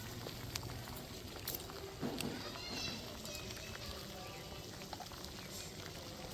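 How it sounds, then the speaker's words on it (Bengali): A pot of water with whole cardamom, cloves, cinnamon and rose petals bubbles at a steady boil for Bengali ilish biryani, a faint, even seething hiss with scattered small pops. "জলটা খুব ভালো মতো ফুটছে টক টকবক করে খুব সুন্দর ফুটছে"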